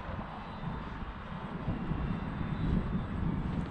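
FMS Pitts 1400mm RC biplane flying at about half throttle, a steady droning electric-motor and propeller buzz heard from a moderate distance and swelling slightly as it passes.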